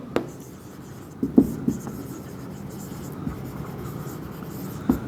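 Chalk or marker scratches steadily across a classroom board as an equation about velocity gets written out, with a few sharper taps and strokes standing out over a quiet room.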